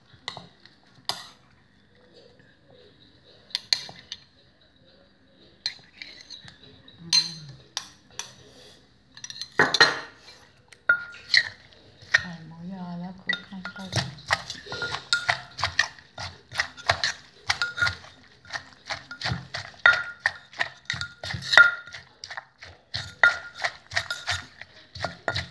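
Som tam with moo yor being mixed in a mortar: irregular clattering knocks and clinks of the pestle and spoon against the mortar, growing busier and denser toward the end, with a brief faint voice early on.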